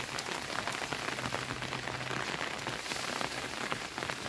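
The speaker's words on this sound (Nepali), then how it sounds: "एकदम मिठो झरी छ अझ रुख रुखमा बसेर यो पानी हल्ला भने हेर्नुहोस्" Monsoon rain falls steadily on trees, a dense even hiss of drops pattering on leaves and surfaces, soft and continuous with no voices.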